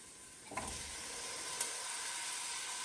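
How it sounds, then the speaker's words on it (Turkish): Tomatoes and potatoes sizzle steadily in a frying pan for bulgur pilaf, with a spoon stirring through them in a short scrape near the start and a faint clink later; no talking. "Böyle karıştırıyoruz."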